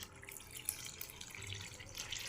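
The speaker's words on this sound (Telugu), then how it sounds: "మునిగేమైన నీళ్ళు పోసుకొని నానబెట్టుకుందాము" Drinking water poured into a bowl of washed jowar, green gram and urad dal to soak, a soft continuous splashing trickle, faint and steady with no talk.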